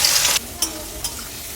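Chopped onion frying in hot oil with dried red chillies and nigella seeds, a steady close sizzle broken by a few short stirring scrapes.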